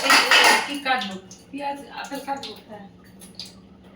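Dishes and utensils being washed in a home kitchen, with clattering clinks of pots and cutlery loudest at first and then softer, scattered knocks, while someone talks over the washing throughout.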